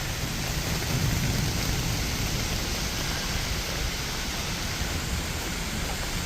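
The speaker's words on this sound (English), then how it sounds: "It started to rain." Steady rain pours down continuously outdoors near a camper awning with a tarp below, a dense broadband hiss filling the whole stretch, with no clear thunder crack standing out and no talking.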